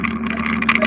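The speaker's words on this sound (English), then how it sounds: "That sounds like he's got one of those exhaust pipes now." A car engine fitted with an aftermarket exhaust pipe gives a steady, buzzing drone with a tonal hum throughout, rising slightly near the end, heard over a phone or call line.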